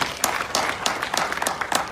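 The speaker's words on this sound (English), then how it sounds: "Clap for public voting now." Hands clap at a surprise 50th birthday gathering for Omoyele Sowore, a loose group clapping with a few distinct sharp strikes over a softer continuous patter, moderately quiet and somewhat distant.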